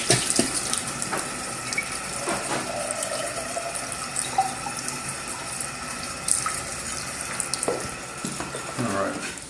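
Tap water runs through a water conditioner and pours from its bottom outlet, a steady hiss and splash with a few clinks, while a person talks over it.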